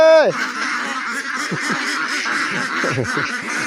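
Ducks quack and honk loudly at close range, a busy overlapping chorus of many calls while waiting to be fed, kept up without a break from start to finish.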